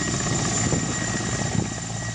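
Helicopter arriving in the Kanin tundra, its rotor and engine roaring steadily and loudly throughout, close by, with no voices.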